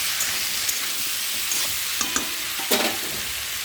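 A prawn, potato and taro curry frying in a pan, a steady sizzle under a handful of distinct scraping stirs, the loudest near the end, with no talk.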